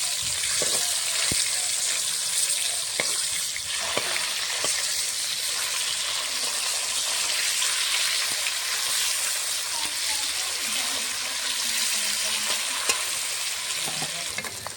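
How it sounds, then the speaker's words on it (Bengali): Pieces of catla fish fry in oil with a loud, dense, continuous sizzle, joined by occasional utensil taps and the scrape of stirring. "মেখে রাখা মাছগুলো ভেজে নেবো।"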